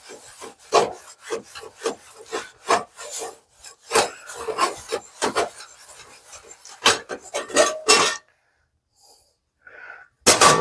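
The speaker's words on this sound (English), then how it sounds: "Get yourself a rag. Hold on to the handle. Take that oil. And you're just going to rub that oil around." A rag rubs oil over a rusty metal tool held by its handle, making repeated close rasping and wiping strokes in an uneven rhythm, then a short pause before more rubbing resumes.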